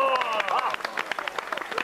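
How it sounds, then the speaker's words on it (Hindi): A few people clap at a Holi party gathering: sparse, scattered hand claps that start after a moment of talk and continue under voices. "अरे भाई बजाओ ना ताली"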